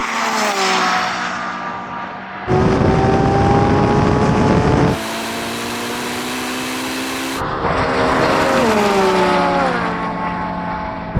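Lamborghini Revuelto and Ferrari SF90 launching side by side in a drag race, loud engines roaring and rising in pitch through gear changes, with sudden shifts in tone as the cars accelerate hard.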